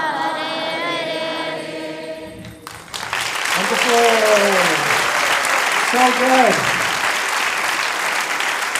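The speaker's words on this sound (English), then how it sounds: "please continue giving a round of applause" Audience applause at a Gita Jayanti gathering at Bhaktivedanta Manor, rising after a chant and continuing as a steady, full clapping wash, with a voice speaking briefly over it.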